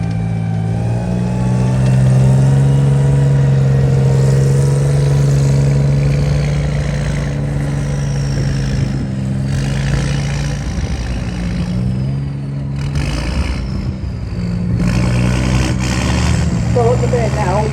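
A military vehicle with its transfer box or gearbox in neutral spins on the spot at a steam rally, its engine running with a steady mid-pitched drone that shifts pitch slightly, with a voice talking over it.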